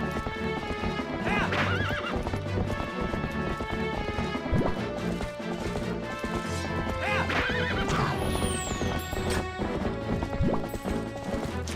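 Horse in The Legend of Zelda: Twilight Princess on GameCube, with loud repeated whinnies and neighs over a steady clip-clop of hooves and dense game background sound throughout.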